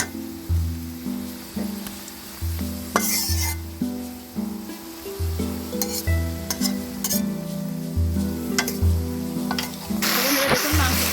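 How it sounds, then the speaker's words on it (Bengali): Chicken pieces go into a hot pan for a Bengali-style chicken jhol with potatoes, with repeated scraping and stirring strokes over a low sizzle that flares into a louder, close hiss near the end. "দেখুন, মাংসগুলো দিয়ে দিলাম।"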